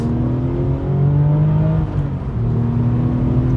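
A Porsche 996 GT3 engine revs hard and close, a loud sustained mechanical howl whose pitch climbs and settles across several seconds, with no talk over it.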